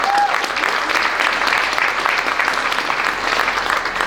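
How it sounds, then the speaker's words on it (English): An audience at a school choir concert claps steadily and loudly throughout, a dense even wash of applause with no breaks. "So, please give yourself a round of applause for that."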